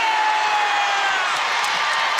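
A basketball crowd at a women's college game between Virginia Tech and Virginia, a steady, loud wash of cheering and whooping from a packed arena after a made basket, with no break in the roar.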